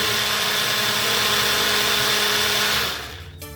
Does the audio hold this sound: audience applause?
no